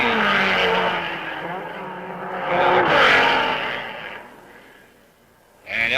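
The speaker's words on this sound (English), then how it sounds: "And Elie Bayol spins out in the Gordini" A Gordini race car spins out at the 1955 Monaco Grand Prix: a loud, close engine roar with a whirring, skidding swell that fades away, then a sudden burst of engine noise returns at the end.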